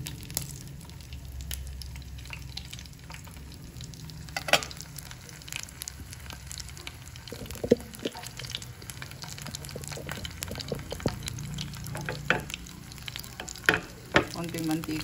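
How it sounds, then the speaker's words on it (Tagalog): Sautéed ingredients frying with vegetables in a little oil, a steady soft sizzle with occasional stirring clicks and spatula taps, moderately quiet and continuous, no voices. "Nagpiprito lang po ako ng pansahog ko doon sa konting gulay."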